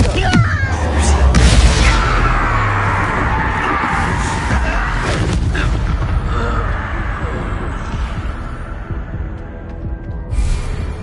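A blasting Confringo spell explosion in the Hogwarts Legacy video game bursts loudly near the start, followed by a sustained rumbling din of combat effects and grunts with game voices throughout.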